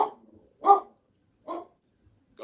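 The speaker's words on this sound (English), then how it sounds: "He's barking in the shadows now." A dog gives several short, sharp barks spaced about a second apart, close by and fairly loud, with quiet gaps between them and no one talking.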